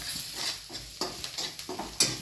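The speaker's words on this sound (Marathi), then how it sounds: "जिरे, कोथिंबीर, मोहरी टाकून शेणी आपण फोडणी देऊन घेऊ" Cumin, coriander and mustard seeds sizzling in hot oil for a tempering, with a steady crackle and the scrape of stirring in the pan, close and fairly quiet, with no voices.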